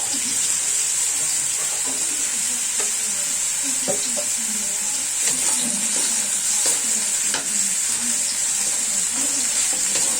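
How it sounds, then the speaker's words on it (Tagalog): Chayote being stirred in a pan for paklay, a loud continuous sizzle with scattered scrapes and clinks of the spoon throughout. "Haluin na mabuti."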